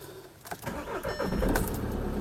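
An Audi A1 diesel engine cranks briefly and catches, settling into a steady, rough idle close by, after a fuel filter replacement.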